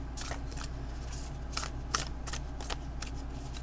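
Tarot cards from The Serpent and the Peacock deck riffle and slap in several quick, close shuffling bursts over a low steady hum, with no talking.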